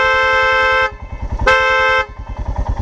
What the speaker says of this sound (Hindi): अगर आपको हॉर्न देना है या किसी को पास ऑन करना है,